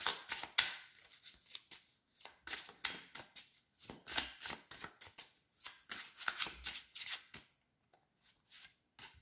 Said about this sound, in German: Ich fange jetzt einfach mal an, die Karten zu mischen.